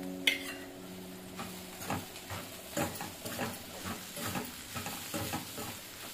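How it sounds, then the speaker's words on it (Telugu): A spoon softly scrapes a pan as salt and crushed cumin and garlic are mixed into ivy gourd curry, in quiet, regular strokes over a faint sizzle and a steady low hum. "బాగా కలిసేలాగా కలుపుకోవాలి"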